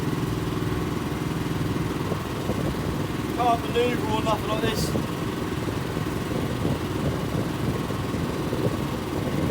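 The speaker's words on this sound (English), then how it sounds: "I'll turn the engine off now just in case" A small fishing boat's engine runs steadily as a loud, continuous low rumble throughout, out among crab pots and ropes at sea, with someone talking over it and brief clattering mid-way.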